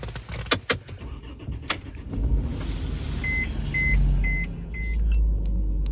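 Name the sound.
car engine starting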